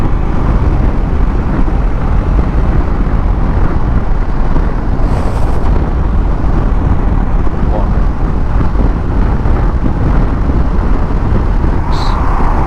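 Ducati Desert X motorcycle cruising on a motorway at 70 mph in sixth gear, dominated by loud steady wind rush with a low engine drone underneath and a voice talking over it.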